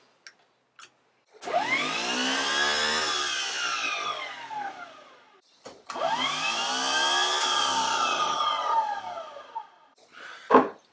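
A winch motor on a bench test whirs up in two separate runs, each a loud, high-pitched spinning whine that rises, holds and winds down. Faint clicks sit before and after.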